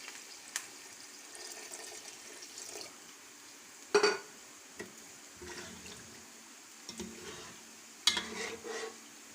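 Water poured into a pot of roasted mutton for nihari, soft splashing and sizzling with a few sharp clangs and stirring knocks, fairly quiet and intermittent.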